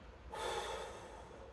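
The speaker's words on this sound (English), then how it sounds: "first we're going to breathe out all the air that you have in the body" A single long, steady exhalation of breath begins abruptly and continues as a soft, airy rush, close to the microphone with no talking, as all the air is pushed out of the body during a pelvic tilt exercise.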